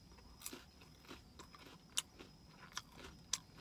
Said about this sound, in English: I'm going to just crunch it and see.